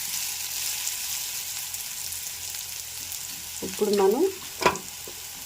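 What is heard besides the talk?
radish pieces frying in oil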